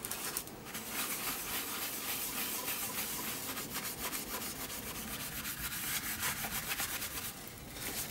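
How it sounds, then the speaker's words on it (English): A damp paper towel rubs gently over gesso on a mixed media art tag, giving a soft, steady scrubbing hiss with quick repeated strokes, close and quiet. "I'm going to spray a little bit of water onto a paper towel, and I'm just going to rub it gently"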